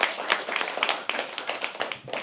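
A small audience at a poetry open mic claps in a brisk, close burst, individual hand claps clearly distinct and fairly even throughout, with no talking over it.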